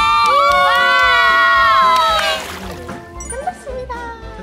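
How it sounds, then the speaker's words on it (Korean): Screams and loud excited shouting from people riding a water slide at a water park in warm weather, a long sustained shriek that gives way to splashing, chatter and scattered yells. "저희 비명 소리가 많이 담겼을 거예요"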